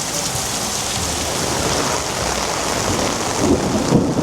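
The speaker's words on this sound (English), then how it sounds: "That thunder done scared everybody off." Heavy rain from a tropical storm pours steadily in Miami while low thunder rumbles underneath, swelling slightly near the end; no voices.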